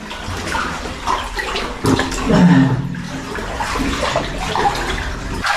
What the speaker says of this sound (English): The water's getting deeper.